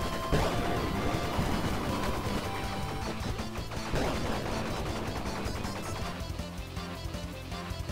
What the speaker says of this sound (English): be ready to hear that sound a lot, because I'm going to be shooting all the time